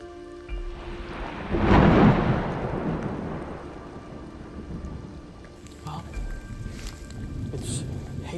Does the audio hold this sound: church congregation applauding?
no